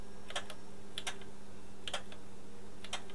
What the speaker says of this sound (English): I do hear relays clicking